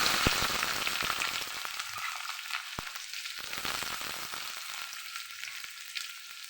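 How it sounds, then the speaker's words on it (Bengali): Onion frying in hot oil with cumin seeds for a lau posto dish, a loud, full crackling sizzle that starts strong and eases into a steadier hiss, punctuated by a couple of sharp clicks, with no voices. "পেঁয়াজটা একটু হালকা ভেজে নেব"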